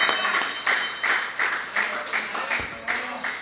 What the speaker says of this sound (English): We must give her a next round of applause.